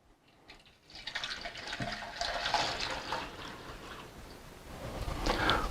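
Dirty water from a grimy tank is poured into a countertop water filter, a steady splashing gush building after a second and continuing with bubbling and trickling, growing fuller near the end.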